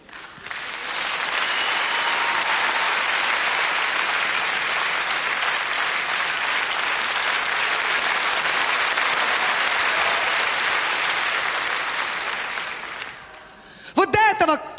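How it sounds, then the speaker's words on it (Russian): A KVN comedy show crowd in Sochi, 2004, applauds loudly and continuously for most of the stretch. The clapping then fades, and a voice and brief crowd noise come in at the end. "да неужто Сочи не будет хлопать правде?"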